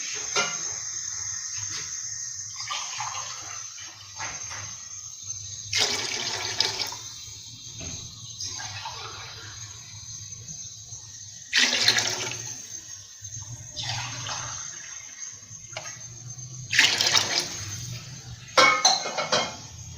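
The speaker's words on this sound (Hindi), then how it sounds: "अब हम इसमें 3 गिलास पानी ऐड करेंगे।" Glasses of water poured into chickpea stock in a pot while cooking chana pulao: several separate splashing pours with short pauses between them, plus occasional light clinks of a glass or utensil, and no talking.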